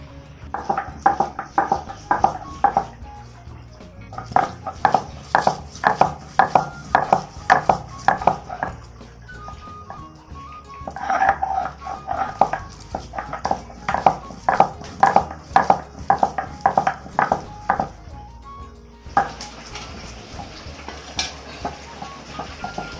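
Garam masala is ground by hand into a paste, making rapid rhythmic pounding and scraping strokes in bursts, with brief pauses between rounds and no voices.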